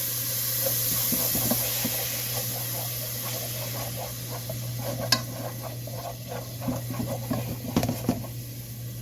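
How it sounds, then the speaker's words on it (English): Around two tablespoons of minced garlic frying in hot oil in a pan on a medium range, a steady soft sizzle with scattered crackles and pops and a low hum beneath. "we're going to be adding in about 2 tablespoons minced garlic. I'm going to go ahead and get that started to fry off a little bit"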